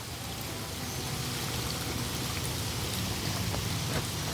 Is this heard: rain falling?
yes